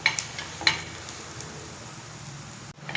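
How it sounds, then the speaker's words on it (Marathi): Jowar and ragi flour paratha with vegetables roasts on a hot pan, a faint low crackle with a few soft clicks of turning, quiet and close. "आता दुसरी बाजूही आपण भाजूया, असं परतत परतत त्याला व्यवस्थित आपल्याला भाजून घ्यायचं आहे।"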